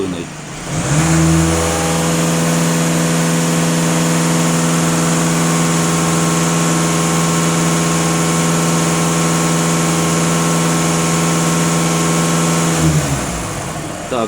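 A VW Passat 2.0 TDI diesel engine is revved from idle up to full throttle and held there, a loud, steady, droning roar close by that drops back down at the end.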